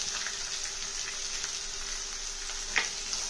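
Onion and green chilli pieces fry in oil in a pan for gongura pickle, a steady crackling sizzle with scattered pops and one louder sputter.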